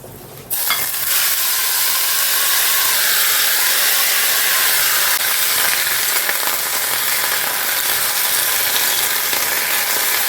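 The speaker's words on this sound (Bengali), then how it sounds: "তাই এই কটা একটু অল্প তেলে পটল ভাজা করব।" Pointed gourd (potol) frying in a little oil in a home kitchen, giving a steady, loud, continuous sizzle and hiss that starts abruptly and holds for about ten seconds, close to the pan with no voices.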